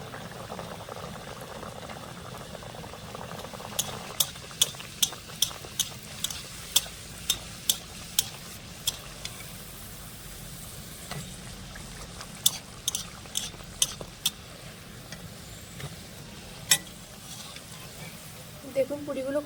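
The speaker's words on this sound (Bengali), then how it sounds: "তেলটা গরম হয়ে গেছে, এবার পুরিগুলো দিয়ে আমি ভেজে নেব।" Puris deep-fry in hot oil with a continuous bubbling sizzle, punctuated by a series of sharp clicks and taps from a utensil against the pan, and faint talking underneath.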